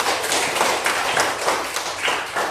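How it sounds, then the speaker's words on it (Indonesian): A classroom group of children clapping for a classmate named Dandy, uneven bursts of hand claps and taps close by, lasting a couple of seconds without talk. "Tepuk tangan untuk Dandy"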